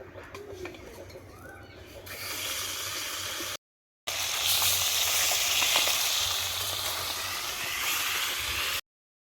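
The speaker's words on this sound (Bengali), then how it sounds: "এবার বাকি মাছগুলো আমি এরকম করে ভেজে নেবো।" Fish fry in hot oil with a loud, steady sizzle that builds after a quieter start and cuts out in two short breaks, while birds coo faintly in the background.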